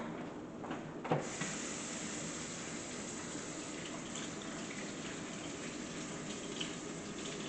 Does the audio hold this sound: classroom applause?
no